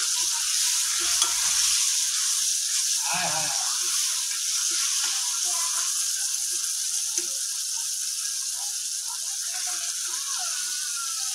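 Tomatoes frying in a pan give off a loud, continuous hiss and sizzle, with a brief soft stir near the start; no talk is heard over the steady frying.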